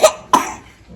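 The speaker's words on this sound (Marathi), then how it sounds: "खोकला झाला, खोकला झाला." A child coughs twice in quick succession, close and fairly loud, and the second cough fades away.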